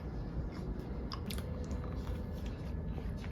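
Someone chews a soft, slightly crunchy gluten-free vegan chocolate chip cookie made from a box mix, with close, steady moist mastication sounds and a few crisp bites.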